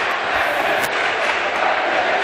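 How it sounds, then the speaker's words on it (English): A packed college basketball crowd at the Carey Center roars continuously at a men's championship game, a dense, loud wash of cheering and shouting with no breaks. "I think this crowd is loving the situation."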